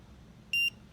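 A single electronic beep from a rear-view mirror compass during calibration, high-pitched and steady, lasts about a fifth of a second over a faint low background hum.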